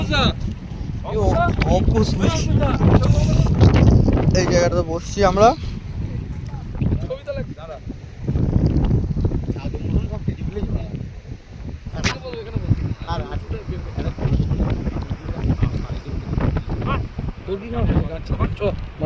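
Wind blows hard across an open outdoor spot, buffeting the microphone with a loud, continuous low rumble that swells and eases, while people talk over it.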